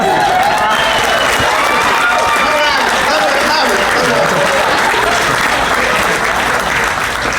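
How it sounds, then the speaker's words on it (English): Wedding guests at a reception applaud the bride during a toast, loud sustained clapping mixed with cheers and voices in the room, continuous from start to finish. "Can we give her a round of applause?"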